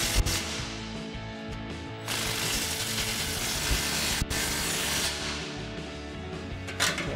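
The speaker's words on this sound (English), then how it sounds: "we'll grab our 15 mil socket on our impact and tighten these down" Impact wrench fitted with a 15 mm socket tightening exhaust clamps on a Chevrolet Silverado 1500 aftermarket dual exhaust, giving several loud ratcheting bursts close to the microphone, separated by brief pauses.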